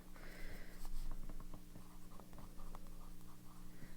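Pen nib scratching across paper in short strokes and taps, close up, with a steady low hum in the background.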